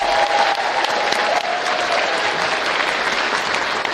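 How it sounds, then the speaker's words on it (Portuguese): Applause for the women from a crowd at a Brazilian political gathering of social movements, dense and loud, holding steady for the whole stretch, with a faint high tone running underneath. "Uma salva de palmas para as mulheres."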